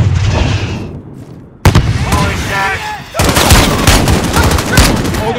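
Combat in Call of Duty: Modern Warfare's embassy mission: a grenade blast bursts in sharply partway through, amid steady loud gunfire and battle noise, with voices calling out in the background.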